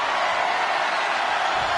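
A large wrestling arena crowd cheers in a dense, steady roar of voices, loud and continuous throughout with no individual words standing out.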